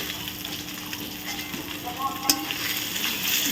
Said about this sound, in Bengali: তো চলো মাছটাকে ভেজে নিচ্ছি।